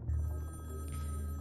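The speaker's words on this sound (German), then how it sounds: "Das Telefon klingelt" A telephone rings in the video game Sally Face, a clear continuous ringing tone heard alone over a low steady hum.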